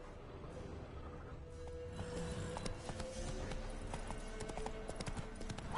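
Roach the horse galloping in The Witcher 3, a rapid rhythmic drumming of hooves that grows busier and louder over continuous wind-like ambient noise, close and steady throughout.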